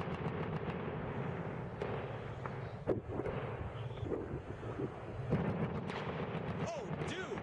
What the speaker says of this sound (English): What you're witnessing is Mexico under fire.